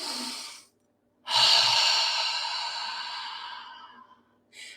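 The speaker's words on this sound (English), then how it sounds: "So if we just start breathing," Slow, deep breaths are drawn close to the microphone: a short exhale, a pause, then one long, steady breath that fades gradually before another begins, in a quiet room with no talking.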